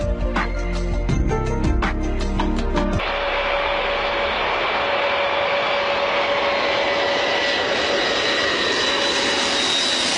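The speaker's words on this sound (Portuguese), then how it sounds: "quando o Antonov 225 finalmente rugir sobre a pista" Antonov An-225 cargo jet engines roar loudly and steadily, a broad sustained rumble with a whining tone, after a few seconds of rhythmic background sound.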